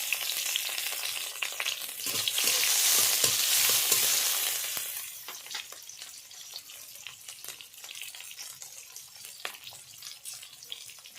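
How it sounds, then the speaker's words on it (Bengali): Spices frying with chopped onion and green chili in a pan for a mixed vegetable dish with soybean chunks, a loud bright sizzle that swells then settles, with scattered stirring clicks and scrapes throughout. "ভালোভাবে মশলাগুলো ভেজে নেব"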